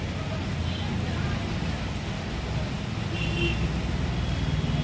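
Steady rain falling, a soft even hiss and patter with low background rumble, moderately distant and continuous throughout.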